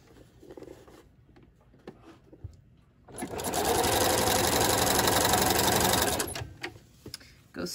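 A sewing machine stitches around a garment after it is flipped, a loud steady run of several seconds rising out of quiet handling noises and stopping just as suddenly, with soft rustling before and after.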